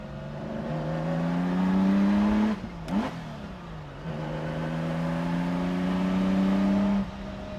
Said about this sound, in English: It revs quick. Engine's very tight.